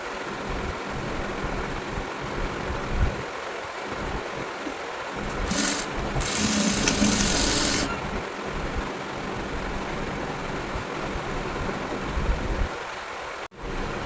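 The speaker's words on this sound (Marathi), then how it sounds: "आणि आता आपल्याला फिटिंगची शिलाई लावून घ्यायची आहे." A sewing machine runs steadily and close, a continuous fast whirring hum with slight variations in speed, while the side fitting seam of a blouse is stitched.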